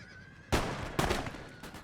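Musket volleys from line infantry in the battle game Napoleon Total War, two dense bursts of gunfire about half a second apart, loud and crackling with a rolling tail.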